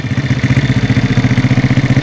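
A Honda Astrea motorcycle with a 67.9 mm stroke and a homemade exhaust idles up close, a loud, steady, fast throbbing pulse with no talk.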